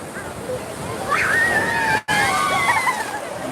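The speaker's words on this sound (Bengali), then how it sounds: "একটা ঢেউ আসছে" Sea waves at Digha beach wash and break in a steady roaring surge close by, under people talking.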